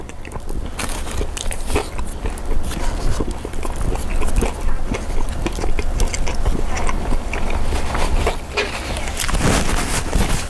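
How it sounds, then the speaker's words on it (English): Someone bites and chews a Vietnamese banh mi with bulgogi meat, tomato, carrot and cucumber, giving close, loud crunches and wet chewing over background noise. "So let's take a bite."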